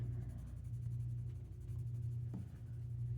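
A graphite pencil shades a dark area on paper during a fashion illustration, a soft continuous scratchy scrubbing, faint and close, under a low steady background hum.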